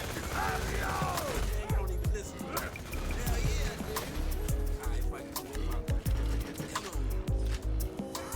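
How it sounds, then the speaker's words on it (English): Rapid explosive bullets fire in Borderlands 2 gameplay, a dense run of sharp cracks and pops layered over game music and mechanical clatter, loud and continuous throughout. "those explosive bullets are fucking weird"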